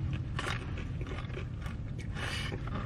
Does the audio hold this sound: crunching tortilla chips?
yes